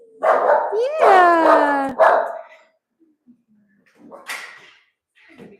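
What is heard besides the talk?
rescued dogs barking at a dog rescue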